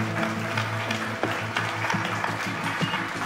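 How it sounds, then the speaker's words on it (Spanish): An audience applauds in a steady dense wash of clapping that holds at an even level throughout, with a faint tonal hum underneath and no one speaking. "Un fuerte aplauso para ella, por favor."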